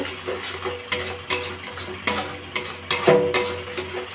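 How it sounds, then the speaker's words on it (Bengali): Food being stirred in a pan over a gas flame, a series of rhythmic metal scrapes and clinks of a spatula against the pan over a low background hum. "ভালো করে নাড়াচাড়া দিতে হবে।"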